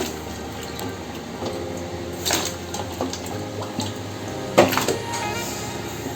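Chunks of tuber and rice drop into a pot of boiling water, giving watery splashes and a couple of sharp knocks against the pot over a steady bubbling hiss; no talking.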